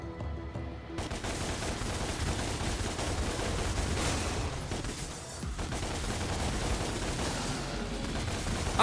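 Dense, continuous gunfire from shooting an enemy in the Devil May Cry game DmC, a loud sustained barrage that starts abruptly about a second in and keeps going under busy game sound.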